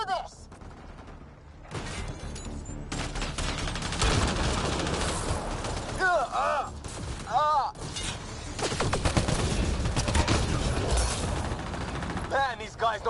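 Sustained gunfire rattles through a Mass Effect Andromeda firefight, dense bursts and rapid shots layered over one another with sci-fi weapon whines. The volley stays loud and nearly continuous for the whole stretch.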